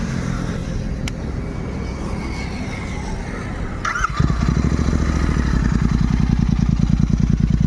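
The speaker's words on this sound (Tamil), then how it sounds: "இந்த எக்ஸாஸை காட்டுறேன் பாருங்கள் உங்களுக்கு. வாங்க ஆன் பண்ணி காட்டுறேன், சவுண்டு பார்க்கலாம்." A fully modified 2024 GT650 motorcycle engine starts after a brief crank and settles into a loud, rapid, throbbing exhaust idle, close up and alone.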